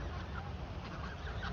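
Ducks crowding aggressively around someone feeding them bread, with a dense, continuous cackling and honking chatter of several birds close by, all through the moment.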